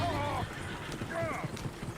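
Horse hooves clip-clop in the Red Dead Redemption 2 video game, several soft, fairly faint hoofbeats in an uneven rhythm under the voices of game characters talking.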